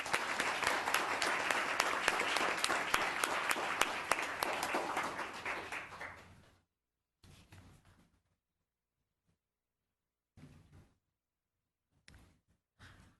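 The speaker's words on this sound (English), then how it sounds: "Another round of applause." A crowd applauding at a town council meeting, about six seconds of steady, loud clapping that tapers off, followed by a quiet room with a few faint stray sounds.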